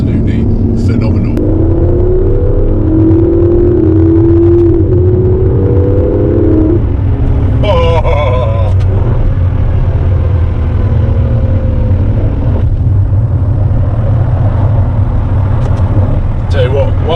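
An Aston Martin DB11 engine drops down through its rev range from inside the cabin, a loud steady drone with a falling pitch that settles into a deep rumble, with a voice talking briefly partway through.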